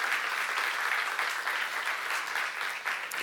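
A church congregation at a seminar breaks into steady, dense applause, many hands clapping continuously and evenly at a fairly loud level.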